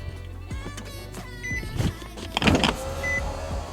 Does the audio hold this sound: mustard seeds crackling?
no